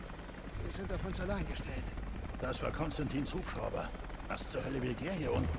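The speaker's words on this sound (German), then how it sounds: "Das war Konstantins Hubschrauber." A helicopter in the video game Rise of the Tomb Raider gives a steady, loud rotor and engine drone with some sharp bursts, running throughout beneath German-language dialogue.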